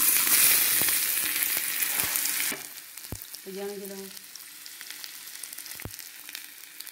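Cashews, almonds and raisins fry in hot oil for a semolina porridge, giving a loud, dense sizzle for a couple of seconds that drops to a quieter crackle with a few sharp utensil knocks.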